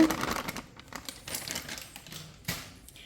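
Maida flour is tapped around a ghee-greased cake pan as a series of irregular light knocks and taps on metal, close by and fairly quiet, with no talk.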